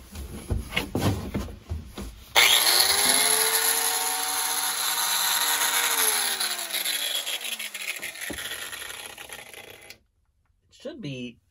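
A power saw with new blades cuts through a nut during boat work, a loud steady grinding whine that holds for several seconds and then stops abruptly, with a voice talking briefly before it starts.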